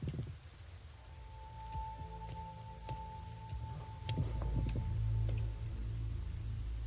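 Rain in the video game Rain Code falls steadily with scattered drip taps and low rumbling thunder, then grows heavier toward the end.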